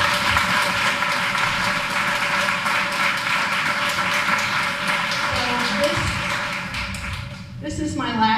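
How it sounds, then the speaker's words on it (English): An audience at a Teacher of the Year ceremony gives a sustained round of applause, a full, even clatter of clapping that fades toward the end as a voice begins speaking. "Let's give everyone a round of applause."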